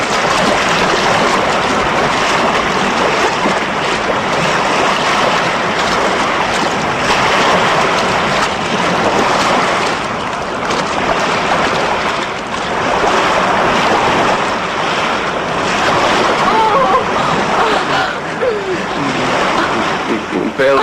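Waves of the Baltic Sea wash in a steady roar of surf, mixed with gusty wind buffeting the microphone, loud and continuous over the whole stretch with no clear breaks between swells.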